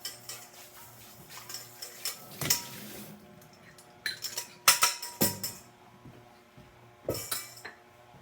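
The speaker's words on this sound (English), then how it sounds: "Continuing to rinse off stuff while we're waiting." Dishes, bowls and utensils rinsed in a home kitchen sink while bread dough is made, with steady running water broken by sharp clinks and clatters of ceramic and metal in scattered bursts, close by.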